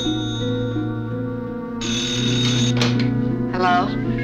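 A telephone rings in two electronic trills over a sustained musical score, the ringing rising out of the music near the end of the stretch.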